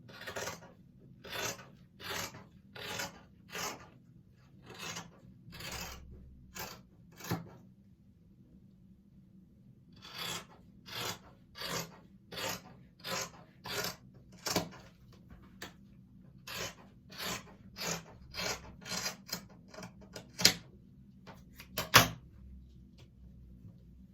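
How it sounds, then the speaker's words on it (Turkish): Scissors cut through fabric for children's camouflage trousers, giving a series of crisp, close snipping bursts in an uneven rhythm with short quiet gaps between them. "Şimdi arkadaşlar kamuflaj takımımızın pantolonunu kesiyoruz."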